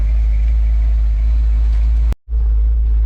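A car engine idles steadily and loudly up close, a deep continuous rumble that cuts out abruptly for a moment near the end before resuming.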